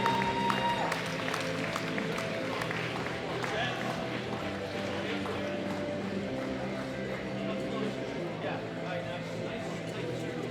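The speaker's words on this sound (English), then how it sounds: "give all of our lifters a round of applause" An audience applauds steadily as powerlifters are led onto the platform at a world classic powerlifting championship, with sustained clapping and a crowd murmur, and an announcer's voice over it throughout.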